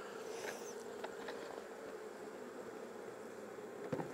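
Honey bees buzz around an apiary hive while frames are moved to combine a weak colony: a continuous, fairly quiet hum of many insects nearby, with a few louder passes close to the microphone.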